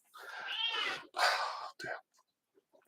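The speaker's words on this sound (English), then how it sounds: "my cat's making an appearance. Can you hear that?" A house cat meows nearby, two drawn-out wavering meows followed by a short chirp, fairly close and clear, then quiet.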